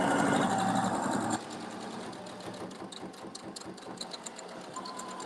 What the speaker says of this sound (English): I'm sewing right on top that basting stitch